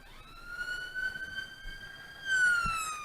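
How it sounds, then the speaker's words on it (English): An ambulance siren wails through Edinburgh traffic, a clear rising and falling tone heard at a distance that grows louder near the end as it approaches. "Sirens coming from somewhere."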